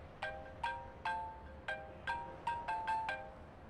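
A phone rings for an incoming call, a melodic ringtone playing a bright, chiming pattern of about nine quick notes in a steady rhythm, clear and close in a quiet room.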